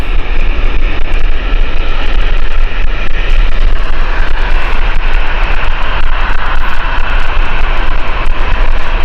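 An Emirates airliner in the EK12 Journey to the Future livery departs Gatwick for Dubai, its jet engines roaring loud and continuous in a broad, steady wash of noise with no voices.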